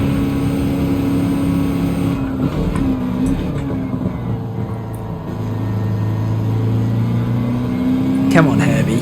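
A racing car engine in Gran Turismo 7 drones steadily at high revs, its pitch shifting through gear changes and throttle lifts, loud and close throughout.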